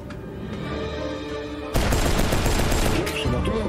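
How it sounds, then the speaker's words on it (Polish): Gunfire in the video game Cyberpunk 2077 erupts as a sudden dense burst of rapid, close shots, cutting in abruptly over a low ambient hum and continuing as sustained volleys. "Nagle słychać strzały i krzyki."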